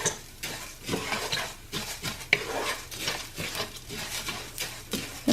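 Garlic and rice for Mexican rice are stirred in a pan, giving a soft, steady frying hiss broken by repeated scraping strokes of a utensil against the pan.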